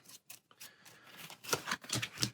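Cards being shuffled for the Arkham Horror card game, a rapid series of close, crisp riffles and slaps that build to quicker, louder bursts toward the end, with no voices.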